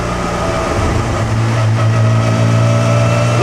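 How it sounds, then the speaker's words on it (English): A vintage Alfa Romeo race car engine drones inside the Monaco tunnel during a historic Grand Prix: a loud, sustained tonal engine note that echoes and rises slightly in pitch, with no talk. "Listen to that Alfa engine"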